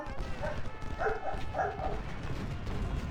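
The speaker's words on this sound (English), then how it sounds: "Sounds like my dog's going nuts in the background." A pet dog barks in short repeated bursts somewhere in the background, faint and indistinct beneath steady low rumbling noise.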